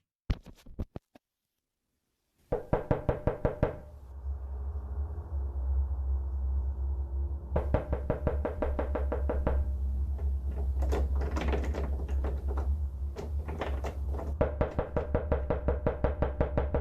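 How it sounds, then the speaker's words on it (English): Repeated sharp knocking on a front door comes in rapid bursts, loud and close, with pauses between runs over a low steady hum. "The sounds of someone or something knocking on Nat's front door can be heard"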